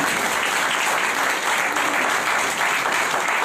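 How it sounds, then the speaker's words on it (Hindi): Applause filling a business seminar hall, a thick, steady wash of many hands clapping at close range, continuous for a few seconds with no pause. "एक बार ताली बजा दी, ऐसी ताली बजा रहा है"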